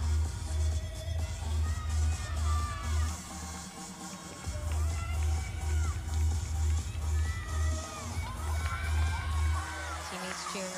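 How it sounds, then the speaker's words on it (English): Teammates cheer and whoop for a gymnast at a college gymnastics meet between WMU and EMU, a lively crowd roar holding steady across the whole stretch, with shouts rising and falling over a constant arena din. "Teammates cheering her on."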